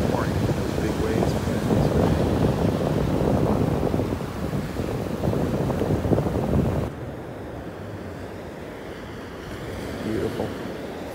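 Big ocean surf rolls onto a beach in North Naples, Florida, a steady broad wash of breaking waves with wind buffeting the microphone, the roar dropping slightly partway through while someone speaks briefly.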